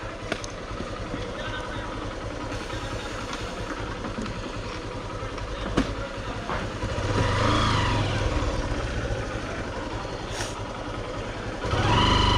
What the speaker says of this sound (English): Lots of bikers here.